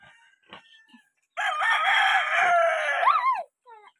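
Rooster crowing up close among many chickens at a rural yard in Bicol, with a few soft clucks, then one long loud crow that cuts off sharply, and no one talking.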